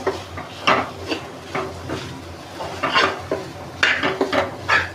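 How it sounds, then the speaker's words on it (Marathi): Mutton keema being stirred and mixed in a pan: repeated scraping and clinking strokes of a utensil against the pan, irregular but continuous over a few seconds, close up with no voices. "असा परतून घ्यायचा असा मिक्स करून घ्यायचा"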